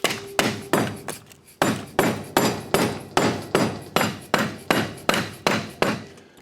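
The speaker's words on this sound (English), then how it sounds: "we'll give it a couple whacks with a hammer and see what it does" A hammer strikes a Briggs engine crankshaft over and over, about a dozen sharp ringing whacks in a steady rhythm, loud and close, with no voices.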